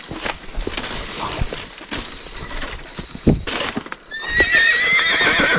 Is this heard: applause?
no